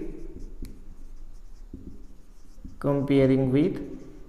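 Pen scratches on paper while a quadratic equation is written out, with soft, rhythmic strokes close by, under a voice speaking.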